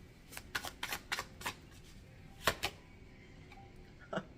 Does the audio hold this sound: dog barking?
no